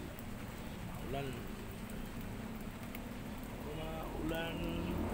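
Steady rain patter fills the scene over a garden plot, with a voice speaking briefly in the middle and again near the end.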